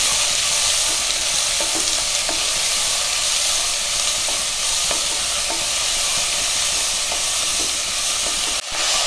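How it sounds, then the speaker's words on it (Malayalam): Finely chopped onions sauté in a pan until golden, a steady close sizzle and hiss of frying with occasional soft stirring ticks running throughout, no voices. "ഇത് നന്നായിട്ടൊന്ന് ഗോൾഡൻ കളർ ആവുന്ന വരെ നമുക്കിത് വഴറ്റിയെടുക്കണം."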